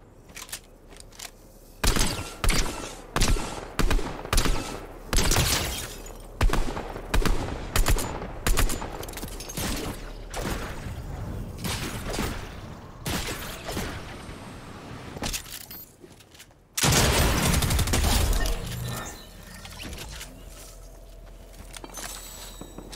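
Rapid bursts of gunfire in the video game Fortnite, a run of sharp shots in quick rhythm for about fifteen seconds, then a brief pause and a louder, denser spray of fire.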